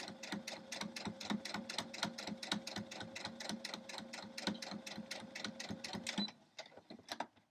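A sewing machine stitches a quilt crumb block in a fast, even run of needle strokes, close and clear, then stops abruptly with a few softer clicks afterward.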